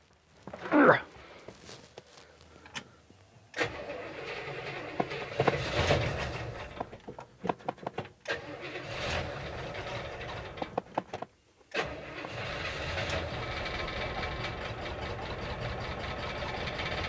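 An old barn-find engine cranks and fires, then keeps running roughly and unevenly for a long stretch, with stumbles, dropouts and a brief cutout before it catches again, loud and close.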